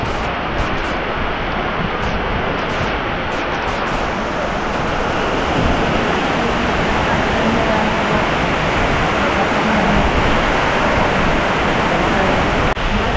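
Heavy rain pouring down outdoors by a riverside in Teluk Intan, a dense, loud, continuous wash of broadband hiss with no breaks, steady throughout.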